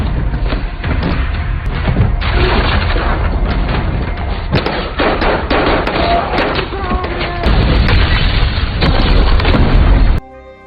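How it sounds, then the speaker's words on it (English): Bomb blast in a war film scene with Russian soldiers: loud, continuous booming and rumbling explosions with debris and gunfire-like bursts, filling nearly the whole stretch before cutting off abruptly near the end. "he throws a bomb that kills many Russian soldiers"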